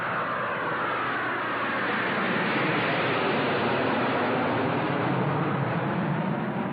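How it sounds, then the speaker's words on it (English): Steady, broad roar of military jet aircraft flying overhead, loud and constant without breaks, no voices. "I think that those planes up there would make an interesting picture, Mr. Ayagi."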